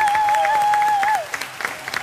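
Studio audience of a TV show applauding a singer, clapping under a sustained held vocal note or tone that slides down and stops, leaving lighter scattered claps.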